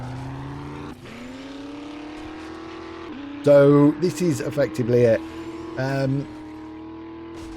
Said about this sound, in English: it is a monster truck